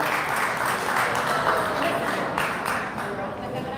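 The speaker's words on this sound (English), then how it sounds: "Little round of applause for these young men." A crowd at a boxing press conference in Los Angeles for Ryan Garcia vs Javier Fortuna gives a steady, even round of applause, a continuous wash of clapping mixed with murmuring voices.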